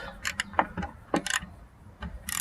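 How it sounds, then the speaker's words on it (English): A ratchet and socket with an extension loosen the bolts on a 2011–2015 Ford Explorer backup camera, a few close, sharp clicks in quick uneven bursts with short pauses between. "we're gonna unscrew these bolts"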